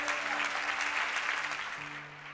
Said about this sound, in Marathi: म्हणून येशूसाठी एक जोरात टाळी वाजवा